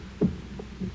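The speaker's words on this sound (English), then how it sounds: "But for many minutes the heart beat on with a muffled sound." A muffled heartbeat sound effect in a reading of The Tell-Tale Heart: two soft, low thumps, the first stronger, then a faint third, dull and close.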